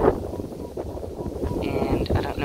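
Gusty wind buffets the microphone with a low, rumbling roar, while a person talks underneath and faint tones sound in the background.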